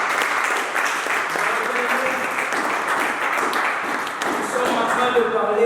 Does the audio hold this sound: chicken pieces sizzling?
no